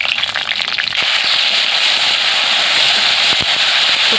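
Tomato hits hot mustard oil with sugar, dried red chillies and bay leaves, bursting into a loud, close sizzle that rises after the first second and crackles steadily to the end.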